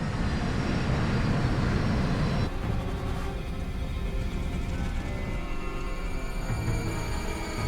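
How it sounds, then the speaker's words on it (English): A jet airliner slowing and descending steeply on final approach, with a loud, steady engine and airflow roar that drops in level partway through and settles into a lower, continuous rumble. "Captain Lutz begins slowing the jet and puts it into a steep descent"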